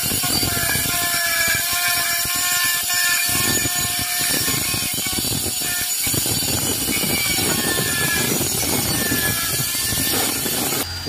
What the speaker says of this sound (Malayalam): ഇവർ ഈ കട്ടർ വെച്ചിട്ട് കല്ലോരോ ഷേപ്പിന് വേണ്ടി കട്ട് ചെയ്തിട്ട് എടുക്കുന്നതാണ്.